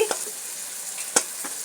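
Turmeric, chili powder and milk masala fry in a pan for a thin fish curry with papaya and ridge gourd, giving a soft, steady sizzle broken by a few short spoon scrapes.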